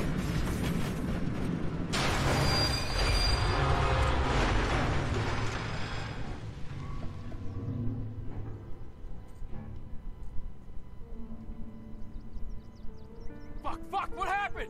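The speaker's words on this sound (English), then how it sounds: "There's some kind of fucking train?" A train passes in the Mafia Definitive Edition video game: a loud, heavy rumbling roar fills the first half, then thins into a lower, fading mechanical rumble with scattered clanks.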